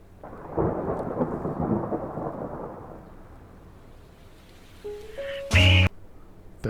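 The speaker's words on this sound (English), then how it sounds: "you don't need any kind of intro when you have natural sounds. Just a simple Rain" Rain and distant thunder open the song, a steady wash of rainfall through the first half that fades before a few soft musical tones and a brief louder burst near the end.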